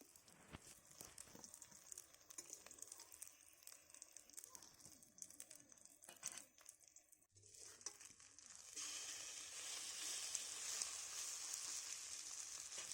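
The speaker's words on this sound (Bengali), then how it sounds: "এটাকেও ঠিক উল্টো পাল্টা করে দুদিক ভেজে নিতে হবে" A fish roe fritter fries in a small amount of oil in a pan, with faint crackle and utensil scrapes at first, then a steady, brighter sizzle swelling up in the second half, under quiet background voices.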